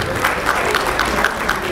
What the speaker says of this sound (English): A round of applause for my Vice President.